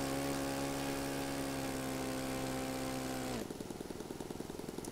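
Simulated gas-powered RC plane engine in the Phoenix RC simulator, a steady buzzing drone that suddenly drops to a lower, pulsing idle partway through.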